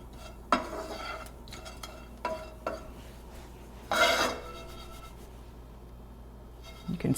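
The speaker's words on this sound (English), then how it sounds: "I'm going to cut the heat, give it a couple more stirs." Food is stirred in a pan with the heat just cut, a spoon scraping and clinking in a few brief bursts over a quiet background.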